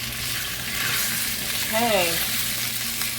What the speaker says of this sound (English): we are going to cook the beef until it is almost completely done